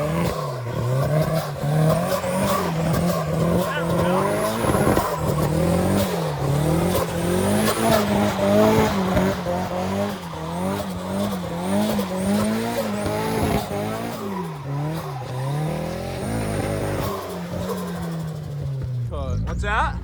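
A drift car engine revs hard and repeatedly stutters against boost cut, the tone bouncing up and down in a rapid rhythm, loud and close, with voices talking over it.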